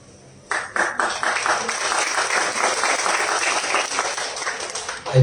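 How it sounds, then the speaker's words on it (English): Audience applause at a Bhagavad Gita chanting competition award ceremony, a loud, sustained round of clapping from a crowd that starts abruptly and continues steadily, with faint voices mixed in. "round of applause please again"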